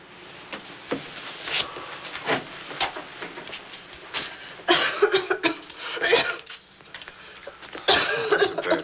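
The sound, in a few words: a person coughing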